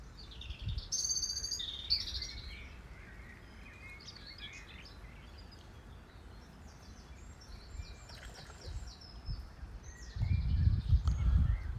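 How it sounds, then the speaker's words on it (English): Robin and blackbird song at a fishery in Wakefield: scattered high chirps and warbling phrases over a soft outdoor background, with a low rumble near the end. "Robin, blackbird."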